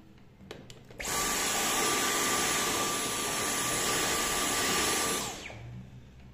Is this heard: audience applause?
no